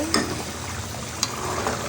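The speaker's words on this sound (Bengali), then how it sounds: "আমি একটু নাড়া দিয়ে দিচ্ছি।" Beef frying in a pan as it is stirred, a continuous close sizzle with a couple of sharp scrapes or clinks of the spoon against the pan.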